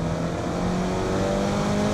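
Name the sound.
Mini Clubman engine accelerating hard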